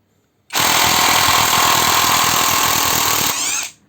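A THAKITEC 230Nm 16V cordless impact wrench loosening a nut, hammering loud and close in one continuous burst of about three seconds, easing slightly just before it stops.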